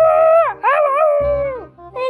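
A cartoon dog in the Toca Life World game lets out a loud, drawn-out howl that rises and falls, breaks briefly, then starts again, close and alone with no talking.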